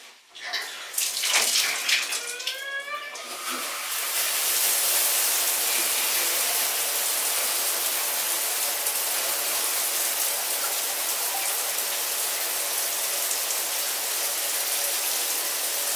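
A shower runs steadily after a few seconds of brief faint chirping sounds at the start, the broad hiss of spray filling the space loud and continuous to the end.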